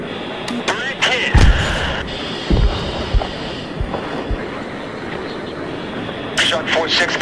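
Jets in the Battlefield 3 campaign roar steadily as a dense, loud rumble under radio chatter, with scattered thuds and sharp metallic bursts rising over the constant engine noise.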